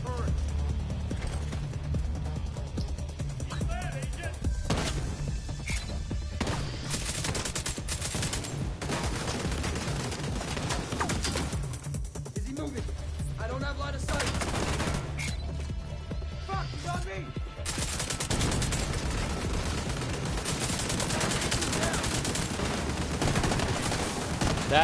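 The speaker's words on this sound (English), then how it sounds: "I'll set up my turret." A deployed turret in The Division 2 fires near-constant rapid gunfire amid dense battle noise, with bursts and crashes layered throughout.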